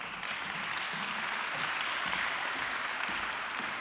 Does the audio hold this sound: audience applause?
yes